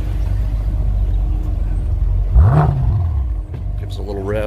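A 2013 BMW M5 engine cranks and catches with a rising roar, then settles into a deep, rumbling idle, close up.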